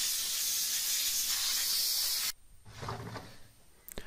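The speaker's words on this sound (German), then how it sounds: "Auch hier wird der Schmutz mit der Punktstrahldüse entfernt." A steam cleaner blasts steam through a point jet nozzle while a robotic lawnmower's body is cleaned, giving a loud, steady hiss for about two seconds that cuts off abruptly, followed by quieter rubbing and handling noises.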